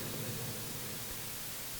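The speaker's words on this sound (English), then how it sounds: "this deres control is breaking stuff down into extremely low bit noise" Airwindows TPDFWide plugin's resolution control crushes audio into extremely low-bit noise, a steady dense hiss with faint rumbling texture beneath, continuous and fairly quiet throughout.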